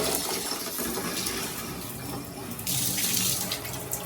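Hot water pours steadily from a Moen shower faucet fitted with a 1225 cartridge, a constant hissing, splashing stream close by with a slight surge partway through, no talking.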